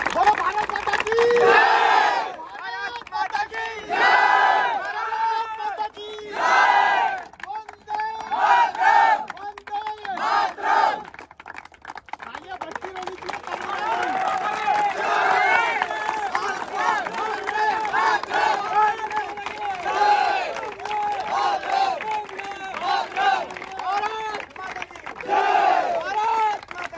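A large crowd of young men at an Indian army recruitment rally in Dewas roars the patriotic chant Bharat Mata ki Jai, shouting in loud repeated bursts, then keeps up sustained cheering and chanting.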